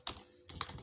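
Two quick clusters of keystrokes on a computer keyboard while coding in C, close and fairly quiet, with no talking.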